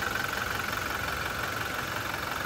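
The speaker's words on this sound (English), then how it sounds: "You can hear it ticking over really nicely there." A 2021 Toyota Hilux 2.8 diesel idles steadily at close range, a continuous even rumble with a faint ticking texture and no voices over it.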